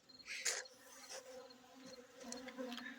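Honey bees robbing and fighting at a hive entrance late in the season, a faint close buzzing and droning with a few sharper rising whines from individual bees.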